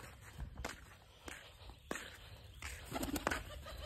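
Pigeons coo softly at a distance, mixed with footsteps and light scuffing close by, faint overall.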